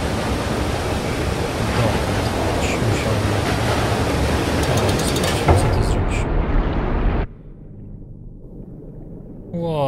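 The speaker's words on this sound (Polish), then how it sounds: "Woda." Rushing water in the side-scrolling game Limbo, a loud, steady broadband wash like surf or a waterfall that cuts off abruptly near the end, leaving a quieter low rumble.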